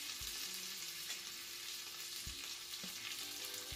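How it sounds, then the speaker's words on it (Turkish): Bread toasts in a frying pan with a constant soft sizzle, broken by a few low knocks and stirring sounds from the pan, and no talk. "Ekmeğim burada kızarırken"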